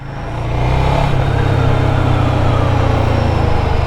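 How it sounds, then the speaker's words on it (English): Ducati Scrambler motorcycle with a Desmodromic engine idling nearby, a steady low mechanical rumble that swells in the first half second and then holds constant and loud. "I'm starting to enjoy the mechanical sound of a Ducati Desmodronic engine"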